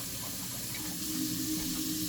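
A steady stream of water pouring from a tap into a pot for boiling, a constant close hiss and splash with a rising tone as it fills.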